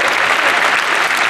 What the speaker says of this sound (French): Vous pouvez vous applaudir, c'est fini.